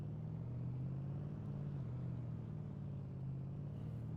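A Ford Raptor truck drives in the video game DayZ, its engine giving a low, steady droning hum with a constant tone, heard alone at moderate volume.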